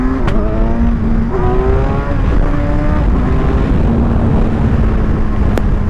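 A Kawasaki Ninja 1000 SX motorcycle at full throttle, heard close up from the rider's seat, climbs through several gears in a row. Each pull rises in pitch, then drops back at the shift, over constant wind roar.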